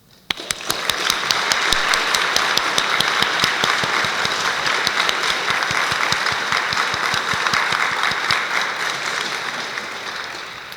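Graduates and guests at a nursing pinning ceremony give a loud, sustained round of applause, dense clapping starting abruptly and holding steady for about ten seconds before easing slightly at the end.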